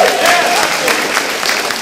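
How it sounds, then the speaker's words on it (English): Audience applause following a talk, a broad steady wash of clapping with some crowd voices, fairly loud and sustained over the short stretch. "Give that a round of applause"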